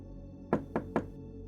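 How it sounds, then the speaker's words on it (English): Three evenly spaced knocks on a door, sharp and close, land in quick succession against a quiet, low background drone. "3 taps"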